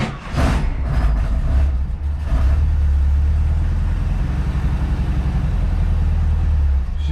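A vehicle engine fires up and settles into a steady, loud low idle, with a brief burst of cranking at the start and an exhaust leak noted; the rumble runs continuously with no talk.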